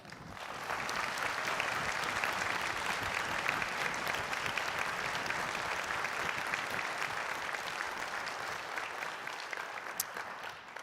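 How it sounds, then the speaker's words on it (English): An audience at a live conference podcast session applauds its guests, a dense, steady wash of clapping that holds for about ten seconds before a slight fade. "AACRAO, please give another round of applause to our guests."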